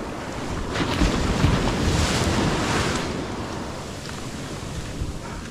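Ocean waves wash and surge under strong wind buffeting the microphone, a loud, steady roar with swells rising and easing.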